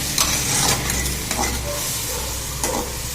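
Ridge gourd sizzles in hot oil in a pan while a spoon stirs it, steady frying hiss with a few scraping strokes of the utensil against the pan.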